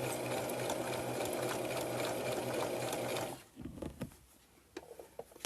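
A sewing machine runs steadily and close up for about three seconds, top stitching a scarf face mask and putting in pleats, then stops and leaves soft fabric-handling rustles and light taps.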